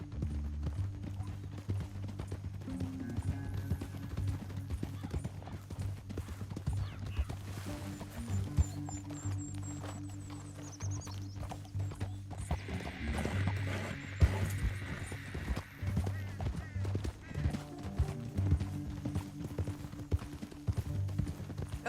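Horse hooves clip-clop steadily on a trail in the Red Dead Redemption 2 western game, with occasional snorts and a whinny, moderately close over a low ambient music bed.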